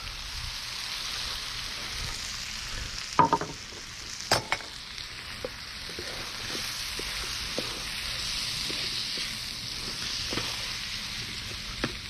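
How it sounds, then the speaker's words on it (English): Rice toasting in a pan for paella Valenciana, a soft steady sizzle and faint scraping as the grains are stirred, with a few sharper clinks of a utensil against the pan; no talk. "All right, so I'm adding my rice."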